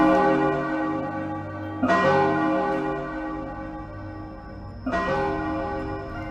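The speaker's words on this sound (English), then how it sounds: "That's the bell, students." A deep bell rings to end a class, with three resonant strikes spaced a couple of seconds apart. Each strike decays into a long, humming ring.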